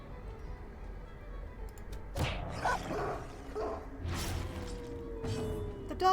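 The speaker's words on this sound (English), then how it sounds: "Dogs. It's all dogs." Dogs barking in the dark fantasy game Darkest Dungeon, several sharp barks and yips bursting over a low droning game background, with thuds mixed in.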